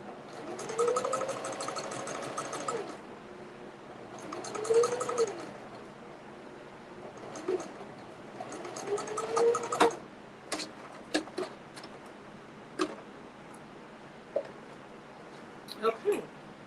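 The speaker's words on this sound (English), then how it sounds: "Do a little back stitch." A sewing machine runs a short back stitch on a child's purse in several brief whirring bursts of rapid stitching, with sparse ticks and clicks between them, close and moderate in level.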